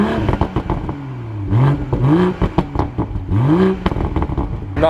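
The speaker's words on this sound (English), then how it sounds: "We're gonna hear the M340 at work." A 2020 BMW M340i engine revs up in several quick throttle blips, each rising pitch sweep falling back to a steady idle, loud and close with no talk.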